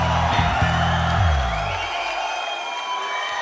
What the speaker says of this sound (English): Give us a big scream,